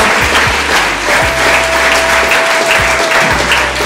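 A church congregation applauding together, loud dense clapping that holds steady throughout, with a faint tone underneath.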